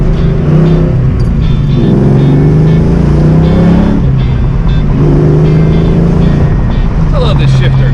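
A 1986 Mustang GT drives along on a test drive, its engine holding a steady low drone with gentle rises and dips in pitch as it cruises, close and continuous, with a voice speaking over it.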